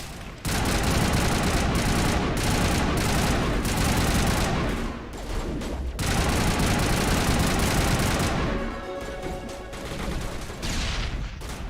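Rapid video-game gunfire fills most of the stretch, loud bursts with brief pauses, then a quieter gap near the end where reloading fits before shooting resumes.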